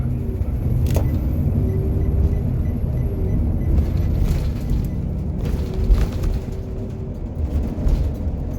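Interior of an empty school bus on the road, a steady low engine and road rumble with occasional rattles and clunks throughout, close and continuous.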